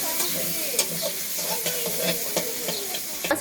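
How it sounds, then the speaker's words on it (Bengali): Potatoes fry in a pan over a village kitchen fire with a constant close sizzle. Repeated scraping clacks from stirring break in at intervals, and no one speaks. "আলুটা ভেজে নিবে আগে।"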